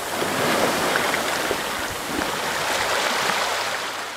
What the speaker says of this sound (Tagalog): nare-relax sa tunog ng humahampas na alon sa mga bato